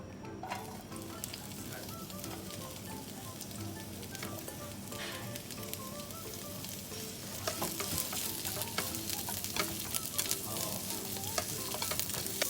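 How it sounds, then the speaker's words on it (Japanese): Green peppers are stir-fried in a hot frying pan, making a steady, close crackling sizzle with occasional stirring clicks. The frying grows louder and busier partway through, and no one speaks. "ではピーマンを入れていきます。"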